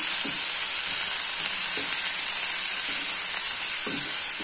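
Ponganalu, coconut-studded batter dumplings, frying in oil in a pan, a loud, continuous close sizzle with bright hiss and faint occasional stirring taps.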